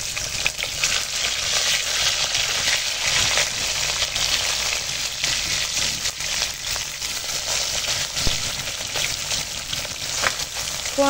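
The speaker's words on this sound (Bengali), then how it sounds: "এবার মাছ ভেজে নেবো।" Fish frying in hot oil over a wood-fired stove gives a loud, continuous sizzle close by, with a steady crackling hiss throughout and no talking.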